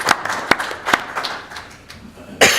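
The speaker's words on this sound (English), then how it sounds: "Let's give him a hand clap, everybody." Scattered clapping from a small audience at a monthly business council meeting, a few sharp irregular claps close by, thinning out before one final louder burst.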